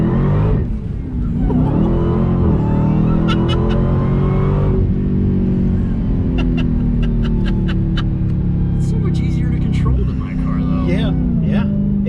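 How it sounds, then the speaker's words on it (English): A supercharged Dodge Hellcat Redeye rumbles loudly from inside the cabin with a deep, steady engine drone that rises in pitch under throttle. Voices talk over it throughout, and some light clicks come through partway. "Your first full throttle rip."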